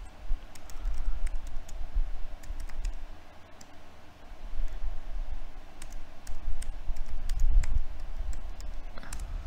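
Soft, quick key clicks from typing a username and password on a computer keyboard, a close run of light taps over low room rumble.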